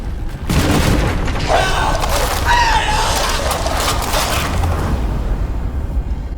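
Shotgun blast in the horror game Amnesia: The Bunker, a loud booming hit at the start followed by a dense rumbling roar, with a voice briefly heard over it.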